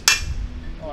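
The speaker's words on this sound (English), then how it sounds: "Might need a bigger hammer" One sharp metallic clang of a hammer striking metal, ringing briefly before fading.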